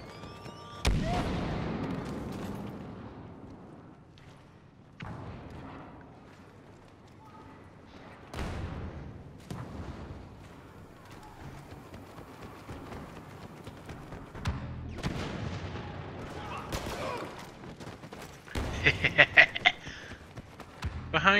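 Gunfire in a Star Wars video game, with sharp blaster shots and booming impacts scattered across the clip, loud and punchy over game sounds and a voice talking.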